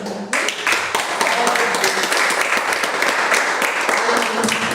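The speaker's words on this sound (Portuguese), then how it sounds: "Aplauda o Senhor com alegria." A church congregation at a Portuguese-language worship service breaks into joyful applause, a sudden onset of dense clapping that stays loud and steady, with faint voices and tones in the background.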